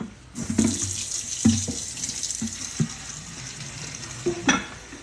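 Water runs from a tap into a container for several seconds, a steady splashing gush with a few louder knocks and sloshes, close by and with no talk.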